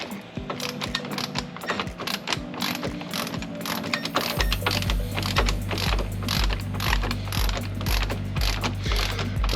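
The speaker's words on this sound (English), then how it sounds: "Thin wall wrench, I'm using 11/16." A thin-wall 11/16 wrench loosening a nylock nut on a tie rod end of a Club Car Precedent golf cart, giving a repeated ratcheting click in quick bursts, fairly close, with metallic clanks and no talking.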